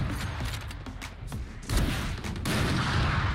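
Operator sniper rifle fire in Valorant comes as several sharp cracks and booms among mechanical clatter, with a heavier blast partway through and dense rumbling noise after.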